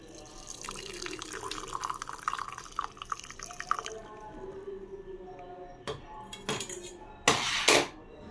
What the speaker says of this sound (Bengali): এবার ছাঁকনি দিয়ে ছেঁকে নিলাম